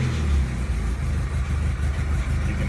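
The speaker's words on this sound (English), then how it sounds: "Let me start this thing up so you guys can hear. It will settle to an idle and it runs a little bit rough" Restored 1990 Mazda Miata engine idling slightly rough, a steady low rumble with a faint uneven lope throughout, close and continuous with no talk.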